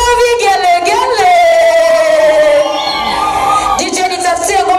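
Guests at a Swahili-speaking wedding celebration break into loud, high, wavering ululation, several voices trilling together near and strong, with crowd cheering and shouts around them.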